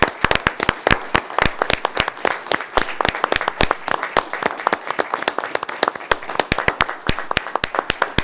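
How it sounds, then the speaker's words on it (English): Round of applause at a school board meeting, many hands clapping in a dense, steady patter that carries on throughout, fairly close and loud with no talk over it. "I'd like us to stand up and give you a round of applause"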